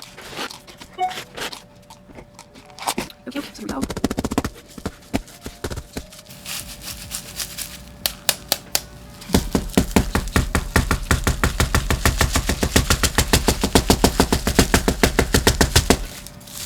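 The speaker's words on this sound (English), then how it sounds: "I'm gonna actually bang this a little bit to try and get rid of some of that air space" A plastic plant pot holding a stumpy plant in perlite and soil mix is banged repeatedly on a surface, first in scattered knocks and then in a fast, steady run of loud, close thuds.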